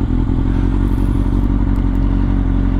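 A 2010 Kawasaki ZX6R motorcycle is ridden with a loud, steady engine drone and wind rumble, close and continuous with faint clatter and no talk.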